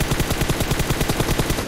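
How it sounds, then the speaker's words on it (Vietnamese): Sustained automatic gunfire in PUBG Mobile sounds as loud, rapid, evenly spaced shots in a continuous close-range burst, with no talk over it. "Ui, bắn cái gì vậy Linh ơi?"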